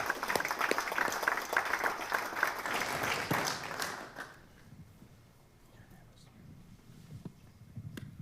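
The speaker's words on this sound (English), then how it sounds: "Let's give him a big warm round of applause" Audience applause for a presenter at a university entrepreneurship event on building a sellable business: steady, dense clapping for about four seconds that then drops away into quiet room noise.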